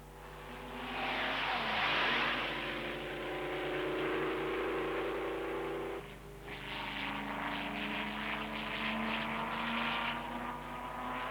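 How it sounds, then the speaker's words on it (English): Several 1930s Grand Prix race cars, Auto Union machines among them, roar uphill toward a carousel turn, their engines a loud, sustained droning blare that dips briefly midway and then swells again as more cars pass. "The cars rush uphill to the carousel turn."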